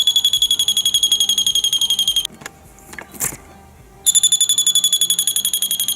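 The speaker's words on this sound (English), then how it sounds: "here is my door alarm" A door alarm: a loud, shrill electronic alarm beeps rapidly and continuously, breaks off for a couple of seconds with some faint handling noise, then resumes at full volume.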